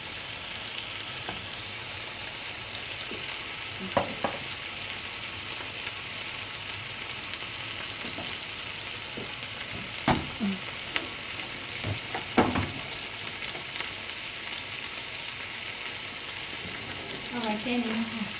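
Pork pieces frying in hot oil, a steady continuous sizzle with occasional stirring clatters and scrapes, moderately loud and close.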